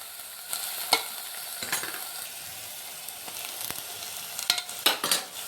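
Curd is stirred into a pan of potato kurma masala, a soft sizzle running under scraping stir strokes, with a few louder clinks near the end and no talking.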